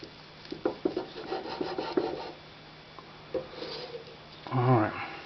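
A sharp knife trims the edges of a rolled egg on a board, making close, soft scraping and tapping strokes in short irregular bursts. A voice talks briefly near the end.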